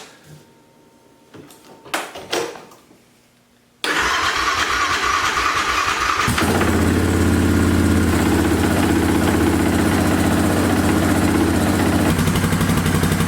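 An engine on a cold day after a near-zero night cranks briefly on a new battery, catches with a sudden roar, then settles into a steady loud idle. A few clicks and clunks come before the start.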